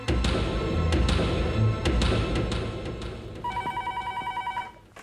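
A telephone rings with rapid, repeated electronic trills near the end, rising out of busy background clatter and noise.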